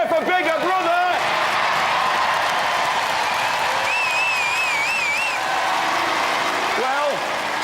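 A Robot Wars studio crowd roars, cheers and applauds in a steady, dense wash of noise, with a voice speaking over the start and close.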